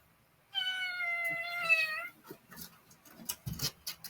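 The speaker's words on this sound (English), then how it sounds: "So now he's meowing." A house cat lets out one drawn-out, clear meow about a second and a half long, fairly close, followed by quiet rustling and small knocks in an otherwise calm room.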